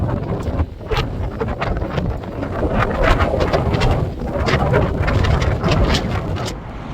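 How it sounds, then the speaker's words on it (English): Strong wind buffets the microphone in loud, rumbling gusts, roaring continuously with occasional sharper bursts. "Windy, Wendy."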